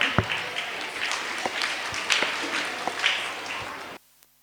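Applause from a school audience at an annual prize distribution function, welcoming a Bharatanatyam dance by third and fourth grade students, a dense crowd clapping for about four seconds before cutting off abruptly.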